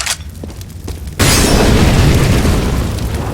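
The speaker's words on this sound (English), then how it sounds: "Molotov. I'm throwing fire." A Molotov thrown in Counter-Strike on the Cache map bursts into a loud, sustained whoosh of flames that starts abruptly about a second in and roars steadily to the end.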